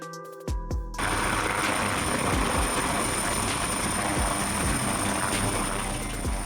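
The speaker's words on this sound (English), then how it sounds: "A type of rotorcraft in which lift and thrust are supplied by horizontally spinning rotors" A helicopter's spinning rotors give off a steady, dense rhythmic chop that is fairly loud and continuous after a brief ringing start.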